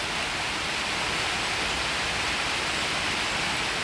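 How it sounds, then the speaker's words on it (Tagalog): Heavy rain pours down in a dense, unbroken hiss, loud and steady throughout with no pauses or voices. "hindi po tayo makakilos at sobra po lakas ang ulan"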